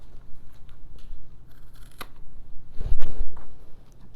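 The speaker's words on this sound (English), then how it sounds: "Now I have this little flap here that I'm going to trim off." Scissors snip through a small flap of canvas while gallery-wrapping a stretched print, a few close, dry cuts clustered together with a sharp crunch near the end.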